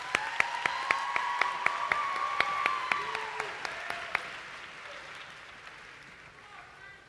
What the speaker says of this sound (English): Let's congratulate all of our finalists one more time with a round of applause.